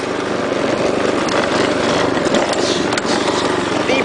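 A custom-built riding lawn mower with a six-speed manual transmission runs steadily up close, its engine a loud, continuous rumbling drone with no pauses.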